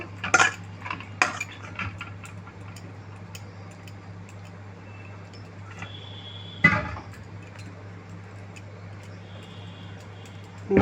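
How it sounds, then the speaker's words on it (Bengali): Knife taps and light clinks on a board while dough balls are cut into small pieces for papdi chaat, sparse sharp ticks over a steady low hum in a quiet kitchen. "লেচিটা কেটে নেবো দেখো ছোট ছোট করে"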